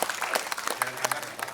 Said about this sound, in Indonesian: Tepuk tangan Pak Indra